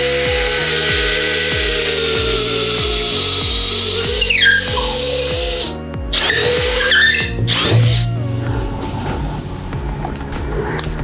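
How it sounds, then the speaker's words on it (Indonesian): A DeWalt DCD805 hammer drill with a spade bit bores into hardwood with a loud, continuous whine and grinding that rises and dips as the bit bites, with brief pitch sweeps as it slows. "Sekarang kita akan coba tes menggunakan mata bor ini ya, mata bor kipas."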